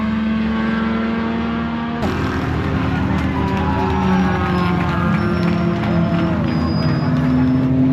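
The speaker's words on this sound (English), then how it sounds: "The Bolt and the Datsun coming past start finish together." Chevy Bolt and Datsun electric race cars pass the start-finish line together during an endurance race, a loud, steady whine and road roar that swells sharply as they come through, with a voice speaking over it.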